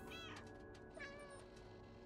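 A cat meows in the video game Stray, two clear drawn-out meows close together, quiet and alone over faint game ambience.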